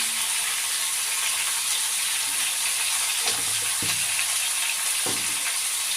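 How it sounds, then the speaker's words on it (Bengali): Spices and chili powder sizzle and fry in a pan while being stirred, with salt added, for a Bengali posto pumpkin stem chorchori. A steady loud hiss runs throughout, with a few soft scraping stirs. "এবার আমি কষতে থাকি নেড়ে করে কষতে থাকি"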